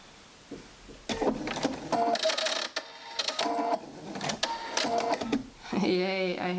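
Home sewing machine running short bursts of stitching, including reverse stitching, while sewing a handmade advent calendar; repeated whirring runs with brief pauses, close and fairly loud, with a voice speaking in between.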